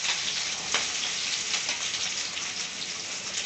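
Green chillies, onion and curry leaves fry in hot oil for a prawn fry, giving a steady, close crackling sizzle with a few sharper pops, alone without any talking.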